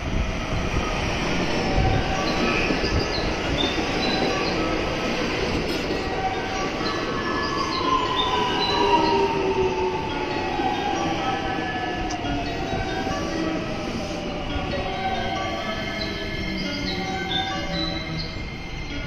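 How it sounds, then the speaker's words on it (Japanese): A JR Special Rapid train pulling into platform 1 at Nishi-Akashi station, a continuous loud rumble of wheels and motors with a slowly falling whine and squealing brakes as it slows, close by and steady throughout. "さて一番乗り場で新快速が到着するようなので見ていきましょう。"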